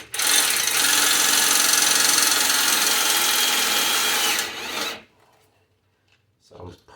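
A power drill drives a self-tapping screw into a 1996 Ford Ranger, whirring in a steady, loud grinding drone for several seconds, then winds down and stops, followed by a faint clunk.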